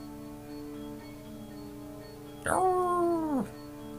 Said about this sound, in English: The howling echoes through the night.